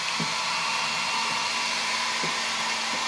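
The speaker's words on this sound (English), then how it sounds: "Make sure you move your hair dryer around, back and forth." A hair dryer blows steadily and loudly at close range, a constant broadband whoosh with a slight hum and no pauses throughout.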